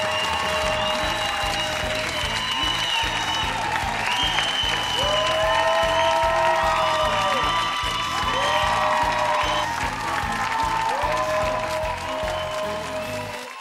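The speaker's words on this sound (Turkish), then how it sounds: "Kocaman alkış!" Sustained audience applause at a Caucasian dance show, loud and steady throughout, with whoops and cheers and a bright high whistle-like tone weaving above the clapping.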